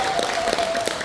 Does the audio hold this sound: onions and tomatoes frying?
no